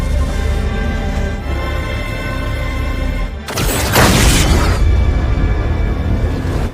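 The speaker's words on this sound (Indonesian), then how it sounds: "Godzilla mengeluarkan ultinya membuat kapal perang hancur seketika" Godzilla's attack destroys a warship in Godzilla Minus One: a sustained roar of music and rumble drops away, then a loud broadband blast bursts in and continues with heavy churning destruction noise to the end.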